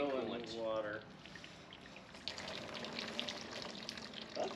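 A mix of oil coolant and water pours and splashes briefly up close, a soft wet trickle that fades under a man's speech, with faint clatter afterward.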